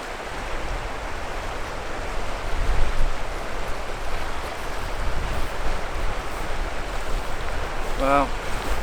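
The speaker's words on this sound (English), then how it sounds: "the wind is blowing straight upstream, so that doesn't help" Wind blowing upstream along a river during a fly fishing trip, a steady broadband rush with gusty buffeting on the microphone and running water underneath, close and continuous.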